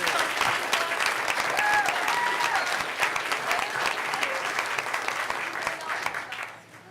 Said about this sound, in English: We have one more round of applause for the High School Jazz